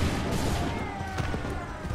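Musket volleys crack and boom through an Assassin's Creed III battle, dense overlapping shots in a loud, continuous burst with shouted orders faintly mixed in.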